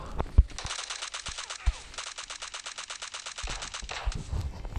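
Rapid automatic gunfire in PUBG, a long fast burst of evenly spaced shots with a few single heavier bangs before and after.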